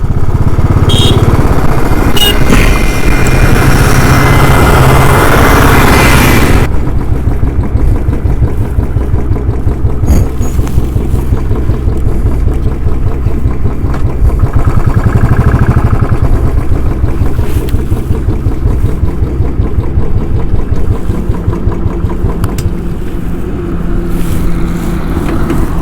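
A motorcycle on a solo ride from Katra to Patnitop drones with a steady, loud engine note and heavy wind rush that runs unbroken, easing into a somewhat quieter hum partway through.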